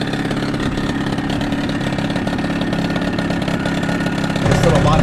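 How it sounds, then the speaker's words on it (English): An outboard motor, repaired after a blown-fuse fault, runs steadily at a loud, close idle with a constant droning hum, rising slightly in level near the end. "I've been running this motor for like almost an hour"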